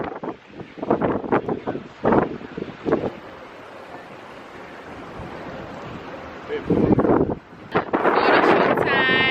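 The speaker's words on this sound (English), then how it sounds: "And it's windy out here as well." Gusting wind buffets the microphone on a hotel dock by the ocean in Jamaica, a steady roar with loud bursts, alongside clattering handling sounds and a brief whistling tone near the end.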